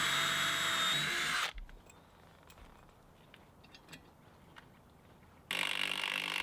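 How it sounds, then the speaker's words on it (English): Bursts of an impact driver sinking lag screws into a barn, loud whirring hammering at the start and again near the end, with a quieter stretch of faint clicks and knocks between. "I drove them in most of the way with my impact driver and then finished them off by hand."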